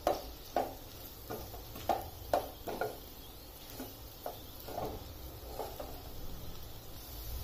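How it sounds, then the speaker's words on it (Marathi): Okra is stirred and sautéed with amchur powder in a pan. A utensil scrapes and taps against the pan in a quiet, irregular rhythm of short strokes over a faint sizzle, with no voices. "पुन्हा आता याला व्यवस्थित परतवून घ्यायचं।"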